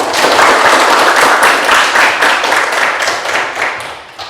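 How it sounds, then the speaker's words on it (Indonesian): A class of high school biology students at SMAN 1 Borong claps together, a loud, dense burst of hand claps close by that holds steady, then thins and fades toward the end. "jadi lebih kita tepuk tangan kita semua."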